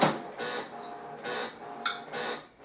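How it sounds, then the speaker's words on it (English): A home printer powering back on whirs and clicks through its start-up cycle in short mechanical bursts, with brief ticking noises between them, alone in a quiet room. "As you can hear, my printer just came back on."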